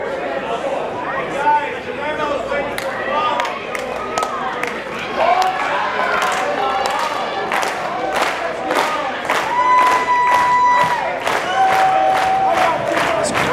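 A packed arena crowd at a tag-team wrestling match roars and cheers continuously, loud and energetic, with commentators talking over the din and sharp shouts rising from the stands.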